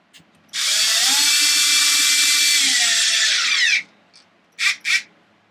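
An electric screwdriver whirs for about three seconds driving a screw into the plastic rear cover of an XMAXX 8S RC car, close and loud, then two brief mechanical blips follow.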